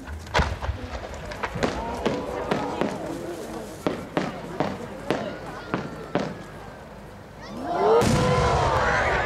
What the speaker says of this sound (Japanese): 和美の火薬に少し手を加えて残像が残る古風ある花火を